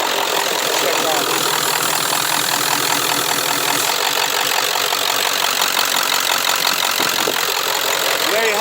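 A Ford 7.3 Powerstroke diesel truck engine idles steadily and loud up close, a rough, clattering knock carrying through the whole stretch with a faint voice briefly underneath.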